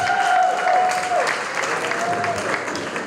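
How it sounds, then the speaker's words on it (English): An audience at a debate final applauds loudly for a team, a thick burst of clapping and crowd noise, with a thin sustained tone ringing faintly over the first half. "Give the team a round of applause, please."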